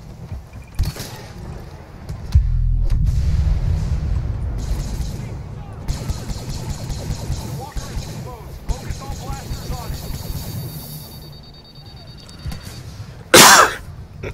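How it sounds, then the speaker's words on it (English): A man coughing during a Star Wars Battlefront game session, a few short close bursts amid booming game explosions and engine rumble, with a loud sharp blast near the end. "God, I keep coughing."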